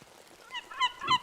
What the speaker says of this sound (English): There's a annoying seagull.